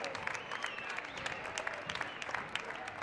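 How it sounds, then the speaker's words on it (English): A crowd applauds both teams after a high school water polo playoff match (Huntington Beach vs Harvard-Westlake, CIF Southern Section), giving steady, dense clapping that stays even throughout at a moderate distance. "one more huge round of applause for both our teams tonight"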